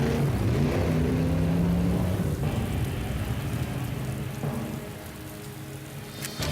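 Heavy rain pours during an animated cartoon storm, a thick continuous wash of drops drumming on surfaces, loud at first and easing slightly, with no voices.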